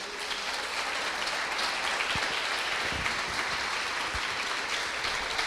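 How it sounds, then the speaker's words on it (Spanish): A church congregation applauds at a worship service, a dense, steady wash of clapping with a few sharper thumps, moderately loud and lasting throughout without talk. "Le damos un aplauso a Cristo Jesús."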